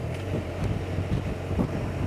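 Wind buffeting the microphone while riding a motorcycle on a windy day on rough roads, a steady low roar and rumble that holds at an even loudness throughout with no talk over it.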